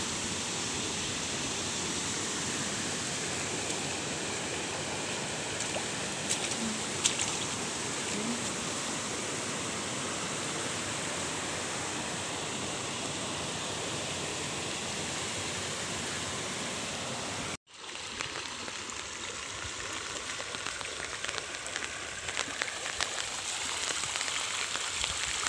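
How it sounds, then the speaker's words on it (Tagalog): Light rain falls steadily on a farm while overflowing floodwater rushes nearby, a dense even hiss of drops and flowing water that briefly drops out before resuming. "patuloy pa rin yung kunting-kunting ulan, kunti-kunti"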